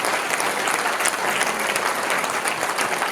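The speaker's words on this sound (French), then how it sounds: "je vous demande de l'applaudir pour l'ouverture de ces yeshivot" Dense, loud applause from a large audience at a hilloula gathering in Marseille, continuous and evenly sustained throughout, with no gaps or talk above it.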